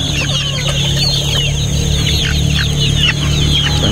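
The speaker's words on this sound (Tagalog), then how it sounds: "Tandang din to mga breeder." Roundhead gamefowl chickens cluck and call close by, with a rooster among them, over a constant low mechanical hum; no talking.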